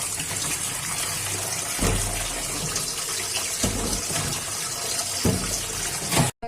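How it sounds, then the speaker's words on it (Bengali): Green bananas rinsed under a running tap, a steady gush of water with brief splashy surges as the fruit is handled, close and continuous with no talking. "পরিষ্কার করে ধুইয়া নিতেছি।"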